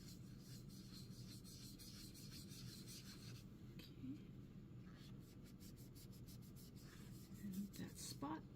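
A doll is scrubbed gently to lift a stain, giving soft, quiet, continuous rubbing strokes against a faint background hum.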